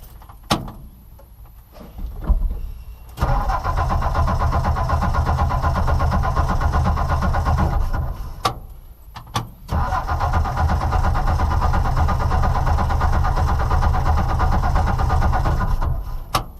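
A 1964 Ford F350 pickup, choke set and in neutral, cranks with a few brief clicks, then its engine catches and runs with a loud, rough, steady rumble close by, stumbling briefly near the middle before roaring on.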